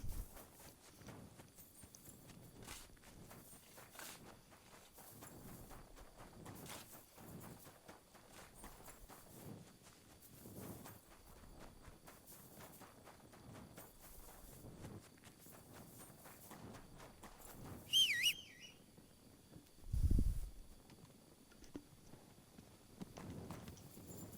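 A horse's hooves clip-clop at a steady walking rhythm in Kingdom Come Deliverance 2, fairly quiet, with a brief thud and a short bright sound near the end and no voices.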